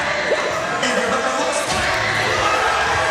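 A wrestling crowd cheering loudly as a wrestler makes an entrance at a tag team event, with sustained roaring, whoops and shouts from a packed arena.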